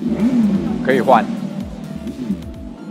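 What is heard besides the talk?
simulated engine sound from Super SOCO electric scooter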